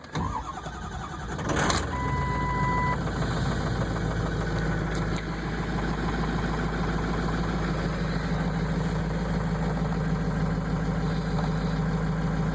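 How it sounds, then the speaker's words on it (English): A car engine cold-starts with a quick cranking burst, then settles into a steady, loud, close idle with a constant rumbling drone that continues to the end. "So cold, This is a cold start right here."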